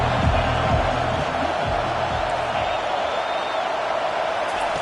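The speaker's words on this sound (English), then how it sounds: "3rd down, and this crowd will blow out a vocal cord to help this defense." Stadium crowd at a football game roaring steadily on a third-down play, a loud sustained wall of cheering and whooping with no break across the whole stretch.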